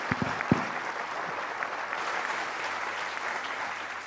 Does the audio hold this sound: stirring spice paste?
no